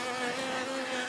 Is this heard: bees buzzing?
yes